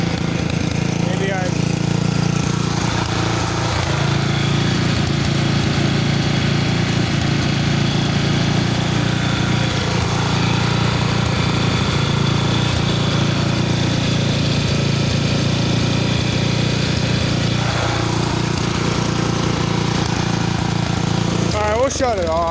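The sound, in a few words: Ranch King riding lawn mower engine idling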